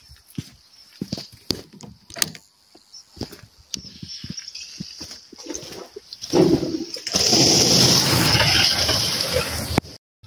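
Water gushing into a tank for horses at a stable, a loud steady rushing pour starting partway through after scattered knocks and footsteps, close by.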